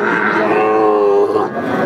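A white calf about 11 months old lets out one long, loud, close moo that tapers off at the end.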